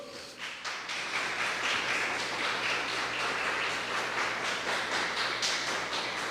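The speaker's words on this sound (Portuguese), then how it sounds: "Você pode aplaudir o Senhor?" A church congregation claps together in praise, a dense, loud, sustained roar of many hands filling the hall, with a few sharper individual claps standing out.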